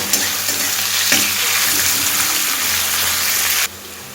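Chopped onions fry in oil for ridge gourd bharta, a steady close sizzle with occasional stirring scrapes, cutting off abruptly near the end.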